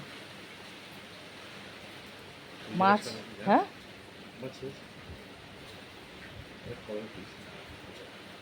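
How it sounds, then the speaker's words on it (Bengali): A steady, even hiss of heavy rain falls outside a home, running the whole time at a soft level beneath a few short bursts of nearby talk. "যা বৃষ্টি হচ্ছে মানবে না তো"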